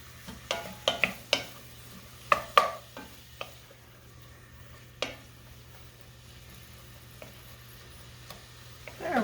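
Chopped onion is stirred in a pan with a wooden spoon, making soft scattered scrapes and taps against the pan over a faint low hum, closer and denser at first and then sparser.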